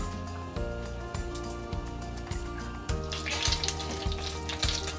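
Two tablespoons of butter sizzle steadily in a hot wok, a continuous frying crackle with faint rhythmic scraping or stirring, close by and uninterrupted.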